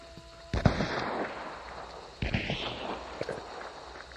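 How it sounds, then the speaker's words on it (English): Sniper rifle fire in the video game Hunt: Showdown, two sharp cracks about a second and a half apart, each trailing into a rumbling echo, with rustling movement in between. "I'm getting shot at by the sniper."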